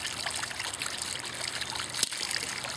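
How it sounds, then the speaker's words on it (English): Water trickling over the edge of a bubbler rock fountain, a soft continuous babble with a faint splash near the end, quiet and close. "You see a little trickle over the side."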